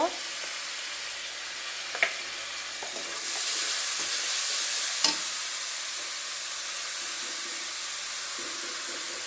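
Garlic goes into hot oil with cinnamon, cardamom, dried chillies, bay leaves and fried onions for a Bangladeshi beef curry, giving a steady close sizzle that swells partway through, with light stirring clicks and no talk.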